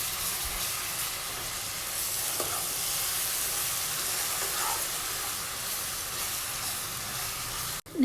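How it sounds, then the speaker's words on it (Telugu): Garlic ginger paste sizzles steadily in a hot pan for a gongura chicken curry, a loud continuous frying hiss with faint stirring scrapes that cuts off abruptly at the end. "గార్లిక్ జింజర్ పేస్ట్ యాడ్ చేసిన తర్వాత పచ్చివాసన పోయేంత వరకు ఫ్రై చేసుకోవాలండి."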